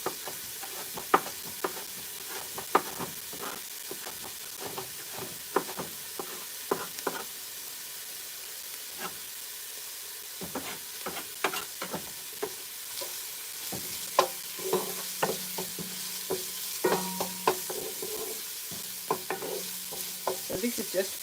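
Onions frying in a little rendered fat for samosa filling, a soft continuous sizzle broken by frequent sharp clicks and scrapes of a utensil stirring against the pan, close up and with no talking.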